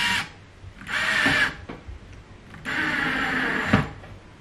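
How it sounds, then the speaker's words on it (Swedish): A power drill bores holes in a piece of furniture so knobs can be fitted, in two sustained whirring bursts with a short pause between, loud and close, with no talking. "Borrade hål för att kunna sätta fast knopparna."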